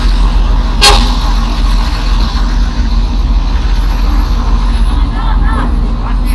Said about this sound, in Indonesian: Oh bis.